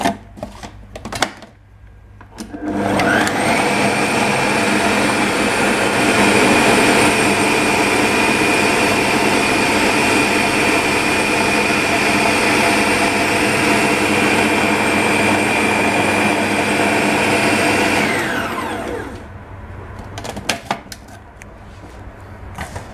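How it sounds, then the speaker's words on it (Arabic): A blender grinding almonds for praline runs loudly and steadily for about fifteen seconds with a high whine, then spins down; brief clatter before and after. "مزيان ونعاود نسد عليه الخلاط ونخليه يتطحن"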